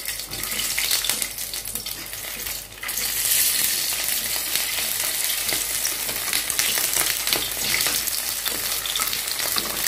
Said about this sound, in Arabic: نحمرها بقى لحد ما تاخد لون جميل كده نقلبها طبعا كل ما تحمر على وش نقلبها